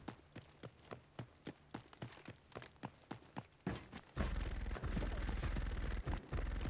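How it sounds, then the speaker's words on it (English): Gunfire in Rainbow Six Siege on the Brakkesh map: a rapid, evenly spaced string of single shots, then a denser, louder burst of fire that runs continuously to the end. "He's shooting at nobody."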